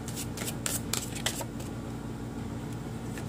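Tarot cards shuffled by hand in a quick run of soft riffling bursts over the first second and a half, then fading to a low steady background hum, close and fairly quiet.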